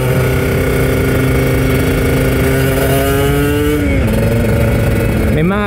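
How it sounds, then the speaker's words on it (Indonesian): A Kawasaki Ninja ZX 150 two-stroke motorcycle engine running at low revs, loud and close, with a rough, sputtering idle whose pitch shifts near the end, while someone talks over it. "Memang agak berebet ini teman-teman motor ini karena disengaja, bukan sengaja sih. Putaran bawah memang dia kurang."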